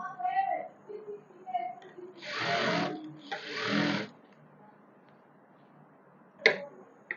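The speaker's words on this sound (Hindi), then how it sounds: "इस तरह से पूरे फैब्रिक पर हम ऐसे ही सिलाई लगा लेंगे।" Sewing machine stitching a line across fabric just below an elastic band on a sharara, in two short bursts of whirring, each about a second and a half, with quieter handling and a sharp click afterward.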